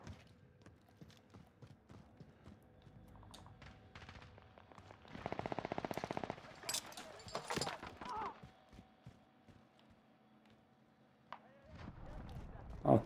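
Gunfire in Call of Duty Rebirth on the Fortune's Keep map: scattered shots, then a rapid automatic burst near the middle, with more sporadic shots after it. Voices talk over the fighting.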